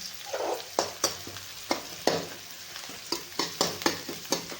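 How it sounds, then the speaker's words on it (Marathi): Potatoes and cauliflower sautéing in a pan for a light curry, with steady sizzling and repeated sharp scrapes of a spatula stirring at an uneven rhythm, close and moderately loud, with no talking. "छान लाल होईपर्यंत आपण परतून घेणार आहे"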